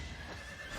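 A horse in Fire Emblem: Three Houses whinnies in a brief, fairly faint neigh over a low background rumble, with a faint trace of hoofbeats and no talking.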